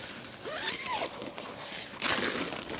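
A waterproof sealed zip on a Prologic Commander VX2 two-man carp fishing tent is pulled in two close, crisp zipping strokes, the second longer and louder, with no talk.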